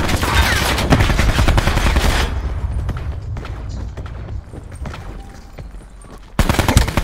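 Loud, rapid video game gunfire rattles in dense automatic bursts, drops to a quieter stretch of scattered distant shots, then surges back in a heavy volley at the end.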